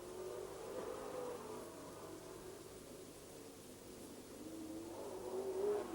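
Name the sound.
speedway super saloon race cars racing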